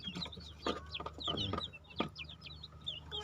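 Chickens in a breeding coop make soft, scattered clucks and chirps, with a few louder calls rising over steady low farm hum, fairly close and without voices.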